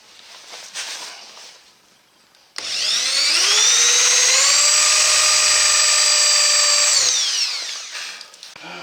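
An electric drill bores a vertical hole in metal ahead of thread tapping, spinning up to a loud steady high whine for about four seconds before winding down, close by with faint sounds before it starts.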